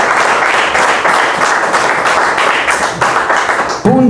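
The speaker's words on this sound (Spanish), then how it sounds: "Den un aplauso porque aprendió algo nuevo usted" A church congregation applauds loudly and continuously, dense clapping from many hands filling the room until it cuts off near the end, when a voice begins.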